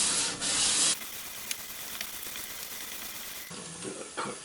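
Fine-grit abrasive, around 800 grit, rubbing against a fossil surface in a steady close scratchy hiss, with a brief louder scrape at the start and a shift in tone near the end.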